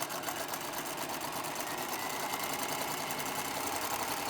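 A sewing machine runs a long gathering stitch through fabric, a steady fast needle chatter holding an even rhythm throughout, close up and moderately quiet with no talk.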